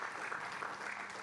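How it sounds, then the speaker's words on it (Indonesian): A church congregation applauds during a worship service, a short stretch of steady, distant-sounding clapping that blends into a soft wash. "Yang setuju, boleh tepuk tangan bagi Tuhan Yesus."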